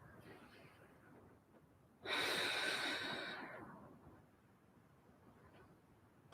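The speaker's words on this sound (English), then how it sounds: "Deep breathing here." A single deep breath taken while holding a yoga split pose, a loud, close, airy inhale-exhale lasting about two seconds against a quiet room, with faint voice traces around it.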